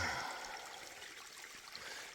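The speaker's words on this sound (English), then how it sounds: "is this really a stream, or is it just mountain runoff?" A cloudy mountain runoff stream along the Appalachian Trail, its water running with a soft, continuous trickling and gurgling, close and fairly quiet, with no one speaking.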